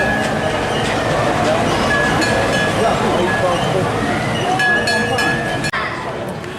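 Loud, continuous rumble and rattling clatter of the Runaway Mine Train roller coaster at Alton Towers, with metallic clinks and a steady high squeal from the track, ending in a sharp knock and a slight drop in level.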